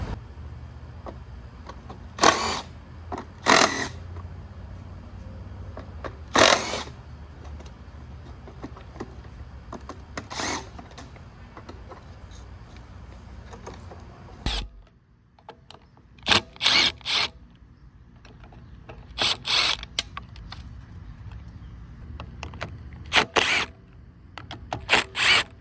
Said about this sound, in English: I'm using an electric impact driver.